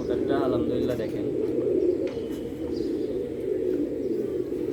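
A Teddy pigeon coos in soft, low, continuous rolling phrases that sound close and steady throughout.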